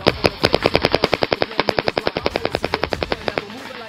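Rapid semi-automatic shots from a Planet Eclipse GEO 2.1 paintball marker, about twenty-five sharp, evenly spaced pops in under four seconds, loud and close, then stopping abruptly.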